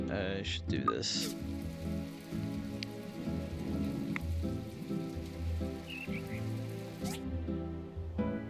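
Steady rain falls and patters in the video game My Time at Portia, a soft continuous hiss with a few scattered drips and small game sounds, with no talk.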